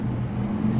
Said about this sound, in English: But man, the sound of these cars